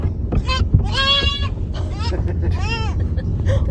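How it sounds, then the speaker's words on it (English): A pet goat bleats from inside a car trunk in Albania, several loud, wavering cries close by in quick succession over low road rumble. "it was their pet goat"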